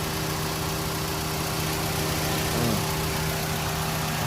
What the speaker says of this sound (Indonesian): Nah ini mesinnya bagus, masih oke, DOHC